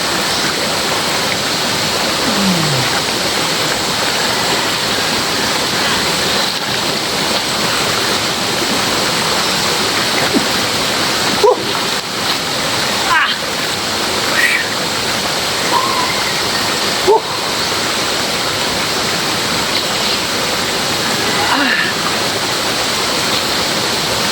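Cold stream water flows in a continuous, broadband rush, close and steady, with a few faint distant voices and knocks now and then.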